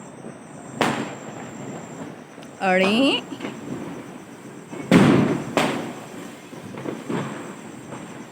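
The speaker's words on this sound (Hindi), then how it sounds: "मैं बिल्कुल पटाखे से नहीं डर रहा हूँ।" Diwali firecrackers and fireworks go off outdoors, several sharp bangs and a whistling rocket scattered over a steady background hum, while a person speaks and exclaims between blasts.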